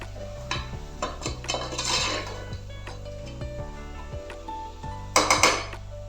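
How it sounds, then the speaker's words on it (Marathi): Prawns stirred and sautéed in a pan for prawn rice, with a spoon clinking and scraping against the metal in irregular strokes, close and fairly loud, and a sharper cluster of clanks near the end. "कोळंबी अशी 1 ते 2 मिनिटांनी यामध्ये परतून देणार आहे"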